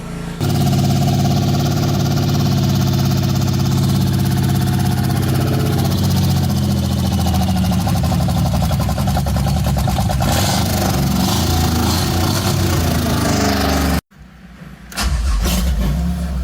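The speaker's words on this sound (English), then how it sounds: "Finally, I got rid of that pesky vacuum leak and got the engine to idle." Supercharged GM 3800 V6 in a Ferrari F355 replica car starting and settling into a loud, steady idle, heard up close for about fourteen seconds before a brief cut and then continuing to run.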